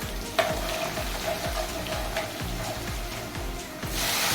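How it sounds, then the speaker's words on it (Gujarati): Tomato and garlic tempering in hot oil with cumin and asafoetida, giving a loud, continuous close sizzle broken by rhythmic scraping strokes of a stirring spoon. "પછી આપણે પહેલાં એમાં ટમેટાનો અને લસણથી વઘાર કરીશું"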